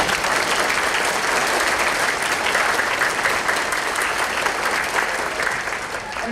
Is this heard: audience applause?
yes